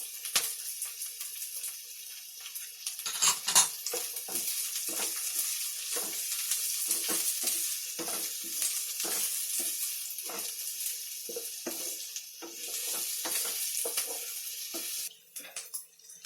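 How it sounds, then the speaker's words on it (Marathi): Mixed vegetables with added carrot stir-frying in a pan for Chinese-style fried rice, a continuous bright sizzle broken by frequent rhythmic scrapes and tosses of a spatula, close and fairly loud. "सारखं ढवळत राहायचं, कारण आपल्याला सर्व भाज्या आहे ना फ्राय करून घ्यायच्या आहेत"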